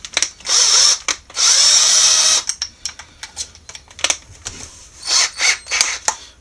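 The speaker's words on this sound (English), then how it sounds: "once you've drilled out your holes, get your bigger drill piece" A power drill fitted with a larger bit bores into a die-cast Hot Wheels VW Kool Kombi, giving loud whining bursts: two short ones, a sustained second-long run, then several shorter stuttering pulses with small clicks between.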